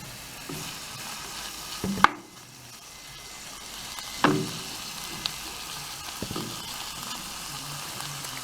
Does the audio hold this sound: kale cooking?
yes